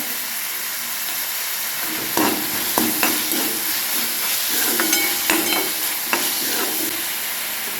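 Chopped tomatoes with half a spoon of salt frying in a pan, a steady soft sizzle with occasional louder stirring scrapes and bursts of hissing, no talking.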